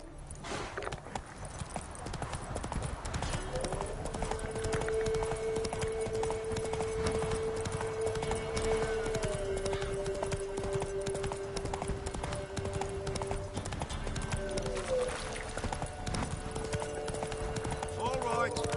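Roach the horse trotting in The Witcher 3, with steady rhythmic hoof clip-clops close by throughout, under ongoing game music and a voice talking.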